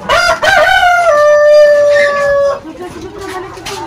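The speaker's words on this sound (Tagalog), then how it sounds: "Pinakawalan yung rooster." A heritage-breed rooster in a backyard chicken pen crows loudly and close by, one long drawn-out call lasting over two seconds, followed by quieter background sounds.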